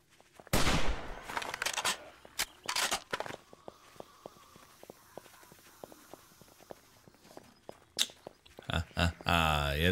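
Gunfire from the video game 7 Days To Die, a sharp loud shot followed by scattered impacts and rhythmic footsteps, with a few more bursts near the end amid game noise.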